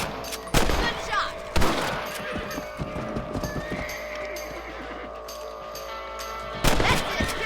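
Gunfire cracks in Red Dead Redemption while shooting rabbits: a couple of loud shots early on and another near the end, with horse hooves clopping and a whinny in between.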